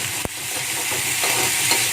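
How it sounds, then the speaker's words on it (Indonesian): Fried rice with green chilies being stirred in a frying pan, a steady close sizzle with a sharp scrape of the utensil early on and softer stirring scrapes after. "kita aduk sampai bau harum keluar dan cabenya udah nggak mentah lagi ya"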